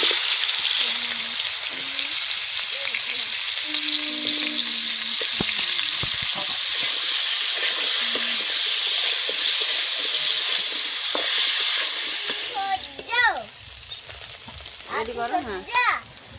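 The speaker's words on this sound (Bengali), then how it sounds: "এবার কড়াইতে যে তেল আছে ওতে আমি আলুগুলো ভেজে নেব।" Potatoes fry in oil left over from frying fish in a wok-like kadai. A steady, bright sizzle runs throughout, and brief stirring and a voice come in near the end.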